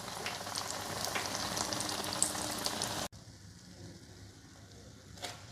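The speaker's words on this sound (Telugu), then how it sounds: "మనం ఎక్కువగా డీప్ ఫ్రై చేయకూడదు," Onion bajji deep fry in hot oil, a soft, steady bubbling sizzle that drops abruptly to a fainter crackle halfway through, with a brief clatter near the end.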